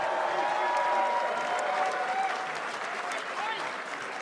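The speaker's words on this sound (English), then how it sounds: "let's have a round of applause for these two warriors" Spectators at a bare knuckle fighting event give steady applause and cheers for two fighters after a bout, a full, even wash of clapping that fades slightly toward the end, with an announcer's voice faintly underneath.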